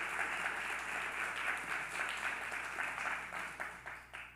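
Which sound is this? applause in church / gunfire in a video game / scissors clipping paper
applause in church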